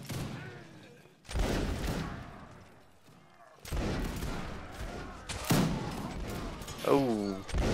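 Gunfire during a siege reenactment event, dense bursts of rifle shots arriving in waves with a rumbling background, mixed with people talking and shouting close by.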